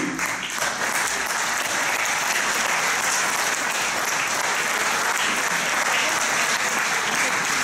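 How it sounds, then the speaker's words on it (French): Audience applause at a French municipal election campaign rally, dense sustained clapping from a large crowd, loud and close, continuing unbroken throughout with a faint murmur of voices underneath. "je vais vous demander de l'applaudir"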